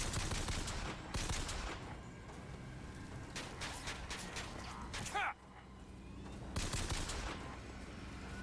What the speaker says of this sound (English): it's much easier for me to fire guns now on the mouse